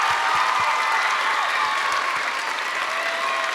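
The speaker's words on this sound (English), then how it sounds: "give him a round of applause" An audience at a school band concert applauds, a dense, steady wash of clapping hands filling the room without pause.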